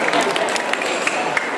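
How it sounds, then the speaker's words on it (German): Applause from a convention audience, a dense, steady wash of clapping heard up close and continuing through the short span, with a voice faintly under it. "This is applause for Apu and the man who was Apu."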